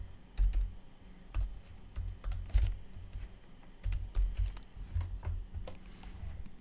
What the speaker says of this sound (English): I will type this out because I know I don't talk clearly sometimes